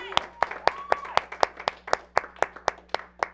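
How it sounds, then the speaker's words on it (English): A steady round of applause, with evenly spaced claps ringing out clearly at a brisk rhythm for a few seconds. "A round of applause"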